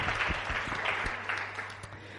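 An audience applauds guests' parents at a televised cinema talk show, dense steady clapping that fades slightly over a couple of seconds.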